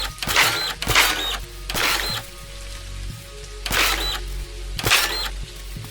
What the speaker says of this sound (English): Let's actually break out the dirt printer and let's actually put a little bit more soil down.